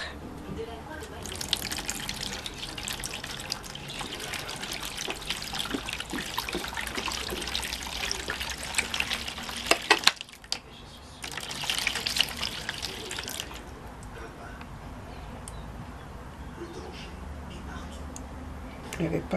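Distilled water poured from a bottle into a tub for guar-gum paper marbling, a continuous splashing trickle with a short pause midway and then more pouring, with a voice talking over it.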